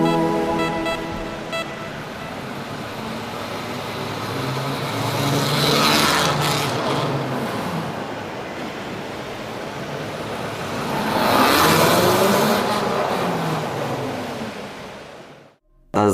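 An electric motorbike comes off its center stand and rides away, a faint motor whine under a broad rushing noise that swells twice as it moves, then cuts off abruptly.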